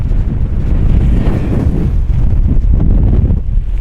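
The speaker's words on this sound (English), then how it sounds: "the wind's not dropping" Strong wind buffets the microphone on an open moorland hillside at Kinder Scout, a loud, roaring gusty rush with low rumbling surges and no speech.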